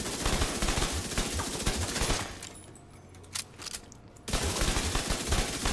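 The Exotic SMG Backfire in The Division 2 sprays a dense, continuous stream of rapid, close shots, breaks off for about two seconds with only scattered pops, then opens up again at full intensity.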